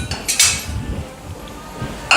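A metal cooking pot of sautéed peas masala is lifted off the stove and set down in a home kitchen, giving a few sharp clanks and clinks up close. Quieter shuffling fills the gaps, and the last clank comes at the end.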